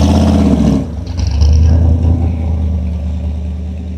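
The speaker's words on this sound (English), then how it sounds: "Let's go car cruising." Classic cars and trucks roll past at a Thursday cruise night in Candia, New Hampshire, with a loud engine note that surges and then settles into a steady, close rumble. No one speaks.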